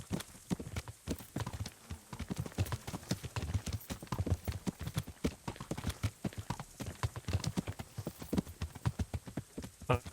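Steady rhythmic clip-clop of horse hooves at a riding pace in Kingdom Come: Deliverance, close and continuous across the whole stretch with no talking.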